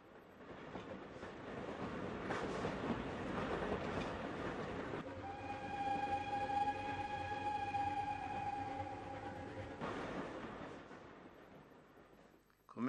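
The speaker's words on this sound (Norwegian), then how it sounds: "Vi nærmer oss Iveland stasjon, og toget bukta seg gjennom skarpe kurver." A train on the Setesdalsbanen railway rolls along near Iveland station with steady rumble and clatter, a sustained high wheel squeal rising in the middle on sharp curves before fading back to rolling noise.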